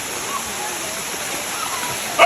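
Miji Falls waterfall heard after a rough trek, a steady broadband rush of falling water filling the whole clip at even loudness, with a brief louder splash near the end and faint voices mixed in.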